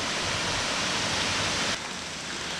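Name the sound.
waterfall at the top of a hill, South Carolina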